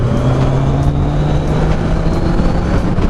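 Kawasaki Ninja 1000 motorcycle engine holding a steady mid-range rev around 6,000 RPM, a loud continuous close drone with a strong even hum and little variation.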